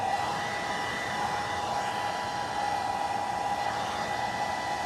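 A hair dryer blows continuously nearby while drying milk paint on furniture, a steady whooshing roar with a constant whine and no pauses.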